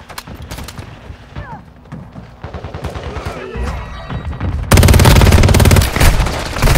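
Repeated bursts of gunfire from a gun in the mobile shooter Warzone Mobile, with rapid shots that build into a loud, dense sustained volley near the end, under occasional game voice callouts.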